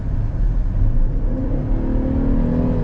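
A 2023 Chevy Traverse High Country with a V6 accelerates, a steady mid-pitched engine drone rising in pitch from inside the cabin, loud and continuous with no talking.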